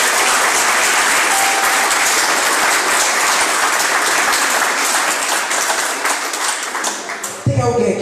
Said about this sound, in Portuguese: Você pode aplaudir ao Senhor por essa palavra.